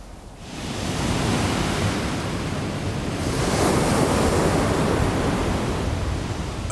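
Stormy sea on the Suffolk coast, with waves surging and breaking under strong gusting wind, a loud continuous roar that swells after a quiet start and stays heavy and broad throughout.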